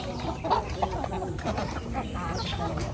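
Black Australorp breeder hens in a poultry area in General Santos City cluck and murmur in a busy, continuous flock chatter, with softer bird calls layered over a steady background.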